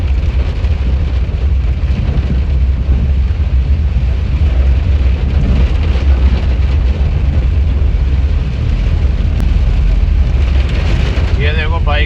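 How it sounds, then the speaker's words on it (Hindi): Dense, loud rainfall roars continuously on a small car, heard from inside, a steady broadband hiss with low rumble underneath, heard from close by. "बहुत ही भयंकर बारिश हो रही है।"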